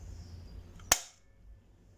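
A single sharp shot from a small gun, one sudden crack that cuts through a quiet background and fades within a fraction of a second.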